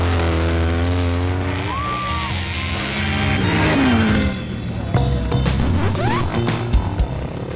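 Racing motorcycles scream past, with rising and falling engine whines and revving that give way to sharp, crackling bursts near the end, heard over a general race-day din.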